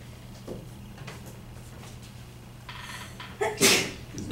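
A single sharp sneeze bursts out near the end after a quiet stretch of faint breathing and small movement sounds, close and loud.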